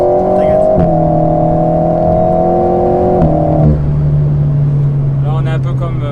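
An Alpine A110 Pure sports car engine revs and pulls hard, its tone holding steady then dropping after a gear change, loud and close from inside the cabin with people talking in French.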